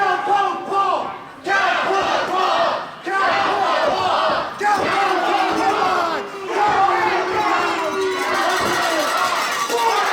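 A wrestling arena crowd at an NWA tag team invitational shouts and chants loudly in repeated surging waves, the roar breaking and swelling again every second or two.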